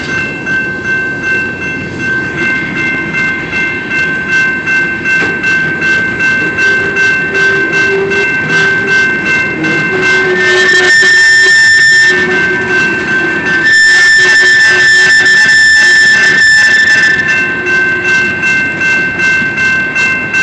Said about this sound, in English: Oh, that's the end of the train.